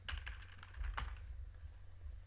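Keys clatter on a computer keyboard as a database name is typed, a quick run of close, crisp taps over a low steady hum, with one sharper tap near the middle.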